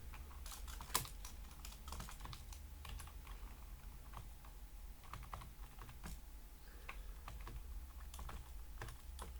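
Typing on a computer keyboard, a quiet, irregular stream of key clicks with brief pauses and one louder tap near the start, heard close with no voices.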